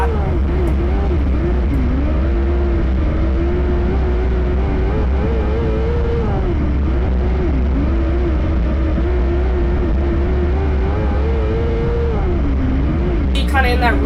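Race cars lapping at Clyde Martin Memorial Speedway during a Thursday night short-track event, a steady loud engine drone with wavering pitch running throughout under continuous commentary.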